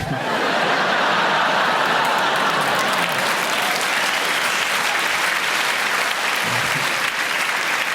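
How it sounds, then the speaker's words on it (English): A crowd applauds steadily throughout, with scattered chuckles and laughter mixed into the dense clapping. "It's been the younger people laughing and clapping"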